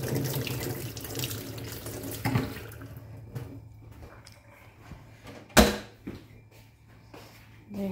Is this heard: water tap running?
yes